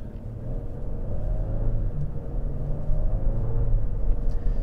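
A 2023 Genesis G90 with a twin-turbo V6 accelerates gently in comfort mode, a smooth low engine and road rumble that swells steadily, heard from inside the cabin with no talking.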